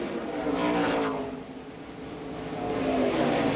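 NASCAR stock cars roar past in lap traffic, engines swelling into a loud pass-by, easing off, then building again as more cars approach, with no talk over them.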